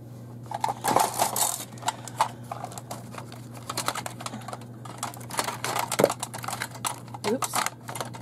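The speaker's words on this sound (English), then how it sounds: "I need to sharpen my pencil." Pencil sharpener working on a drawing pencil, heard as a busy run of small scraping clicks and ticks over a steady low hum, with a person speaking at times.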